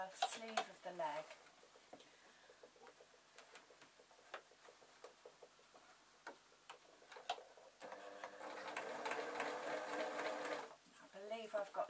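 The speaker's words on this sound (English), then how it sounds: "I'm sewing up the sleeve of the leg." A sewing machine stitches up the leg sleeve of a zebra puppet, running in steady ticking pulses that build to a louder, faster stretch of continuous stitching before stopping.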